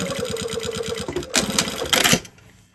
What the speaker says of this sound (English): Then we can go ahead and sew all the way down.